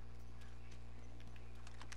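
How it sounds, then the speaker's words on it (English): Footsteps in a squad-based shooter game, a series of short, crisp clicks spread irregularly across two seconds over a steady droning hum, fairly close and moderately loud. "I heard footsteps"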